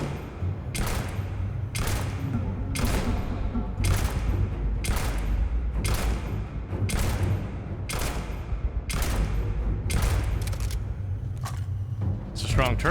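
Repeated heavy turret gunfire in the sci-fi video game Starfield, loud bursts of shots firing in a steady rhythm roughly every second over a rumbling low drone, with a voice talking in between.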